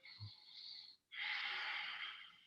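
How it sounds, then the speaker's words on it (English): Ujjayi yoga breathing through a constricted throat, heard as two close, audible breaths: a shorter hissing inhale, a brief pause, then a longer, steady, ocean-like rasp, with no talking. "Ujjayi breath"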